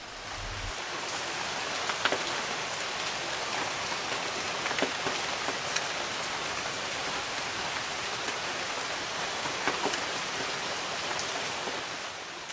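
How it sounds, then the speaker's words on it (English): Steady tropical evening rain in Bali pours continuously at a resort, a dense hiss with scattered louder drops spattering nearby surfaces. "we had a tropical rain that evening"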